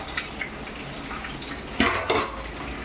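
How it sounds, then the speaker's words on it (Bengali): Water is poured into a pan on the stove while cooking fish with taro stolons, a close rushing splash with a couple of louder gushes over steady background noise. "জলটা ঢেলে দিলাম"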